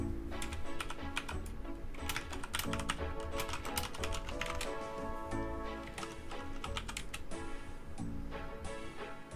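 Rapid computer keyboard typing and mouse clicking during a RuneScape game session, a dense run of close, crisp clicks and taps in irregular bursts, steady throughout with no talking.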